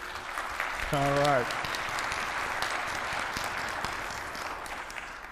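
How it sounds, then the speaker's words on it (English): Steady applause from a crowd fills the clip, with a voice speaking briefly over the clapping near the start. "Brief applause for your school, real quick"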